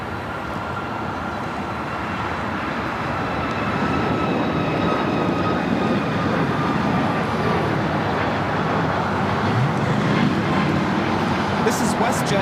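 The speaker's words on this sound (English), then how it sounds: "1315 taking off to Winnipeg on a MAX 8" WestJet flight 1315, a Boeing 737 MAX 8, taking off from LAX bound for Winnipeg: a steady, broad jet engine roar that builds slightly and then holds, heard from a distance with voices talking faintly beneath it.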